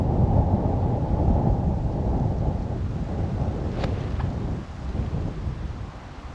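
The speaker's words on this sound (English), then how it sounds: "We've got a massive wind coming left to right." Strong wind on a golf course roars steadily into the microphone as a loud, continuous low rumble with no talking.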